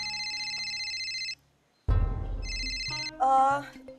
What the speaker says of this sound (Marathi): फोन येतो मला.